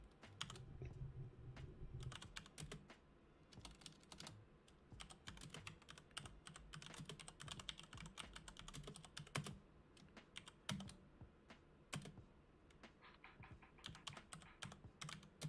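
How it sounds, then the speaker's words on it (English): Steady, rapid clatter of keys on a computer keyboard, fairly close and continuous, with no voices. "I'm typing in."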